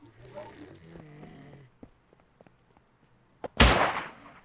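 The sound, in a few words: gunshots in the video game Miscreated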